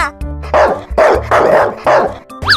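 A dog barks four or five times in a steady, loud run, each bark sharp and close with short gaps between, ending on a brief higher yelp.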